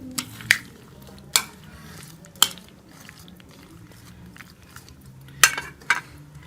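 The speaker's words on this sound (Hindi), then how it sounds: "साथ ही हम इसमें थोड़ी सी बंद गोभी ऐड कर देंगे। इन सारी चीज़ों को जो है वो मिक्स कर लेंगे एक दफ़ा।" Macaroni salad with shredded cabbage is stirred in a bowl, marked by a handful of sharp, separate spoon clacks against the dish between soft, close mixing sounds.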